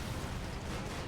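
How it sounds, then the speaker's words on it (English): Explosive bolt detonating in the horror video game The Evil Within, a dull, broad rumbling blast that fills the whole short moment at moderate loudness with no clear sharp onset, heard alone without talk. "Something exploded."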